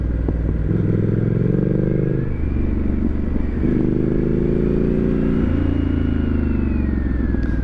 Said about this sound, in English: The Scrambler just loves these roads, though. Just eats them up.